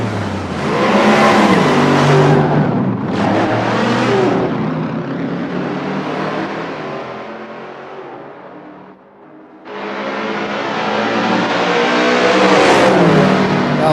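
A Carroll Shelby car accelerates hard on the road, its engine revving up in rising surges, briefly easing off around a gear change, then roaring up again loud and close.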